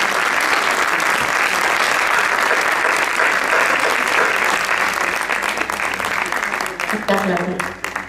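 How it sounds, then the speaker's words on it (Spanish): A big, loud audience applauds at an evening colloquium on the film La Novia in Sádaba, steady dense clapping through the whole stretch that tapers slightly near the end, with voices mixed in. "Un aplauso fuerte para todas nosotras."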